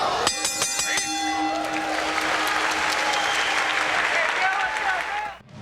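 A crowd in Anderson, Indiana applauds loudly and steadily after a round of a World Middleweight karate championship bout, with a ringing bell at the start and the clapping fading at the end.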